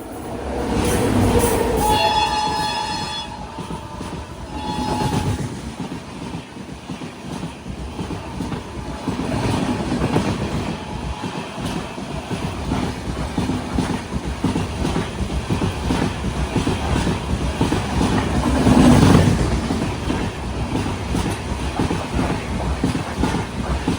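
Silambu Express sleeper train running into Pudukkottai railway station, a steady loud rumble of wheels and carriages with a horn sounding early on, continuous throughout.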